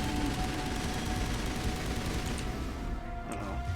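Rapid gunfire from a squad firefight in the video game Mass Effect Legendary Edition: dense bursts of shots crackle continuously, with a few sharper pops near the end, and no talk.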